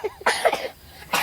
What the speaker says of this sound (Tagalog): Ay, ubo-ubo ka na haw?